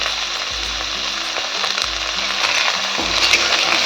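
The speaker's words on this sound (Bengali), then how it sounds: "বেগুনটা আমি লাল করে ভেজে নেব" Eggplant pieces fry in hot oil with a little turmeric in a kadai, making a loud continuous close sizzle, with low rhythmic ratcheting and scraping from a rotating kitchen appliance running underneath.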